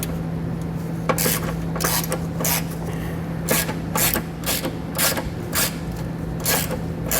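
A ratchet with a deep-well 10 mm socket loosens flange nuts while a Curt trailer hitch is installed on a 2019 Lincoln Nautilus, giving repeated bursts of sharp clicking over a steady low hum, close and fairly loud.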